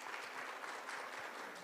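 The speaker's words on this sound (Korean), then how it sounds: "박수로 환영 부탁드립니다" Brief, faint applause from an audience at a special session of a young leaders' forum in Jeju, welcoming the next presenter with an even wash of clapping heard from a distance.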